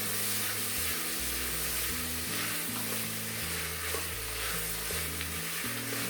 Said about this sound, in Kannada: ಇವನ್ನೆಲ್ಲ ಎಣ್ಣೆಯಲ್ಲಿ ಚೆನ್ನಾಗಿ ಹುರ್ಕೋಬೇಕು.